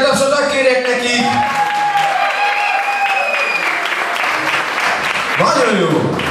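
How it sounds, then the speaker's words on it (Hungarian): Wedding guests clap for a couple's opening dance, with dense applause mixed with cheering voices and music-like tones over the whole stretch. "Egy nagy tapsot kérek neki!"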